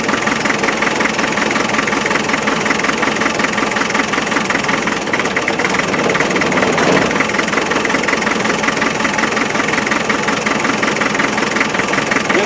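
A 1991 ex-MOD Land Rover 90 with a naturally aspirated 2.5 engine runs with number 3 cylinder's injector cracked off, giving a loud, steady, rough idle with rhythmic knocking.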